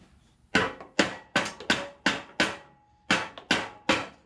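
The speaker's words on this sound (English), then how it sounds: "I may need to give them a little tap with a hammer." Ten sharp hammer taps knocking riding lawn mower muffler pipes loose, struck at a fairly even pace with one short gap, each a crisp metallic knock with a quick decay, close and alone.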